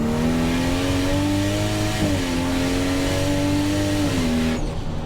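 A modified Toyota Supra engine revs hard and accelerates through the gears, a loud steady drone with rising pitch and two brief dips at shifts, close and continuous before cutting off near the end.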